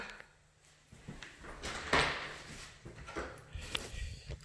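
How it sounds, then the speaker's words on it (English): Sunroom door being opened with some effort, giving a few soft wooden knocks and a brief sliding scrape, close and fairly quiet indoors. "So this sunroom requires two hands to open the door."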